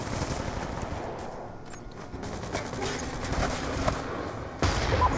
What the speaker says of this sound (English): I'm running with a heavy machine gun.